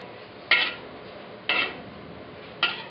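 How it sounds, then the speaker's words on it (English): A utensil stirring pasta with capsicum in a pan knocks against the metal three times at slow, uneven intervals, each a sharp clatter fading quickly over a quiet background. "Then we'll stir it."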